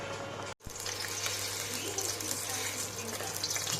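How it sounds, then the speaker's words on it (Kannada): Water from boiled greens is poured off, a steady close splashing gush running continuously after a brief pause, with a faint low hum underneath. "ಈಗ ಸೊಪ್ಪನ್ನು ಬೇಯಿಸ್ಕೊಂಡು ಆ ನೀರನ್ನೆಲ್ಲ ತೆಗೆದಾಕಬೇಕು."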